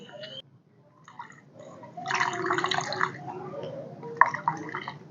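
Chrysanthemum seedling roots are washed in water, giving splashing and trickling sounds close by in bursts, with a voice talking quietly at times.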